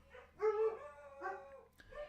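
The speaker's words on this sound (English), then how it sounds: "The dogs are barking." Dogs bark nearby in a few short, tonal yelps and woofs, two stronger bursts followed by a quieter one, with no talking over them.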